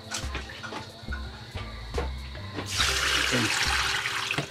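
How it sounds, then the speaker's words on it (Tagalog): Tap water runs and splashes into a basin as sorghum seeds are washed, a steady stream that swells louder partway through, under someone speaking. "ang gagawin natin is hugasan natin yung ating sorghum seeds"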